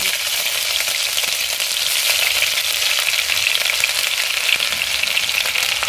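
Ginger fries with a five-spice tempering in a wok, a loud, even, continuous sizzle with a close, hissing texture and faint crackles throughout, without speech.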